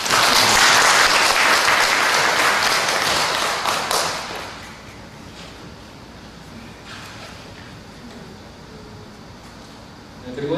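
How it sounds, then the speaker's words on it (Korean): Applause from a church congregation, loud and dense for about four seconds before fading into quiet room tone with only scattered claps afterward. "박수 한번 드리겠습니다."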